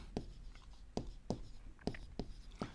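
Several quick, separate strokes of writing on a board during an accountancy lesson. The scratches are faint and close, coming in an irregular rhythm with quiet pauses between them.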